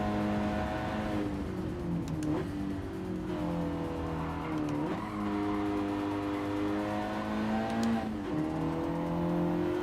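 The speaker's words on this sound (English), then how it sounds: "you hear the tires breaking free, you hear the car moving around, blowing through the tires" A car in Gran Turismo 7 slides around with its rear end stepping out, tires squealing and breaking grip over a sustained engine drone that rises and dips with throttle, loud and continuous with brief sharp tire chirps.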